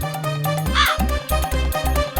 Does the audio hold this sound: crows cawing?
yes